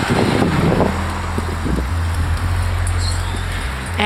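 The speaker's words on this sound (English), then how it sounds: "Now we have to let the traffic go." Cars pass on a street with a continuous road rumble and engine drone, buffeted by heavy wind noise on the microphone.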